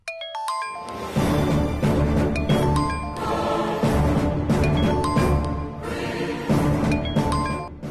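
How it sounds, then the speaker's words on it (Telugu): A phone ringtone plays a bright melodic tune of repeated chiming notes over a full backing, loud and continuous with no talk. "ఫోన్ చేస్తుంది."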